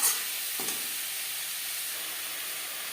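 Small chicken pieces frying in a pan over a medium flame give a steady hissing sizzle, loudest at the very start and then settling into an even, close crackle, with a brief stir and no voices.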